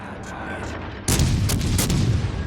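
Warship guns firing in World of Warships Legends, a sudden loud naval salvo bursting in after a quiet stretch, followed by rumbling shell blasts and a few sharp reports.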